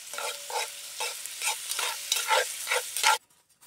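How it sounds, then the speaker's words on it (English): Onion, garlic and bear stew sizzle and crackle in a Dutch oven over an outdoor fire. The frying is dense and continuous, with rhythmic stirring scrapes, then cuts off abruptly near the end. "Sizzling up pretty well."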